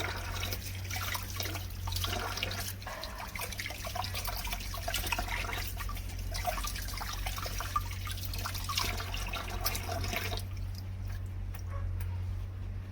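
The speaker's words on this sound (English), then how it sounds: "Next, I wash the lolot loaves that a kind neighbor just gave me." Lolot leaves being washed in water, a continuous soft splashing and trickling with small drips, close and steady under a low background hum.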